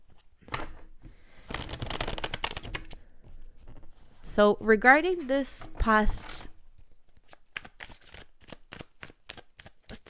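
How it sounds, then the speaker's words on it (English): Tarot cards being shuffled by hand in bursts of crisp riffling and flicking, close by, with a person talking quietly between and over the shuffles. "I feel like I want to shuffle it."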